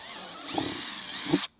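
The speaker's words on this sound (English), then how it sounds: "These are 5/16 drill bits" A handheld power drill fitted with a 5/16 bit bores a hole while mounting a Harbor Freight upgrade on a Kubota L3902 tractor, a steady whirring run that lasts over a second and cuts off abruptly.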